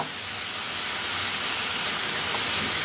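Carrot fry sizzling in a pan on the stove, a steady, dense hiss of frying that runs on evenly throughout with no voices.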